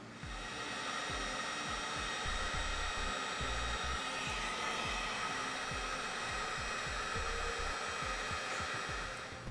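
A heat gun blows steadily while heating heat shrink butt connectors on trailer brake wiring, a continuous loud airy roar lasting throughout with no speech.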